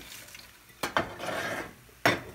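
Tortillas stirred into hot green salsa in a pan for chilaquiles, heard as a few sharp scraping clanks of utensil against the pan over a soft, steady sizzle, with no talking.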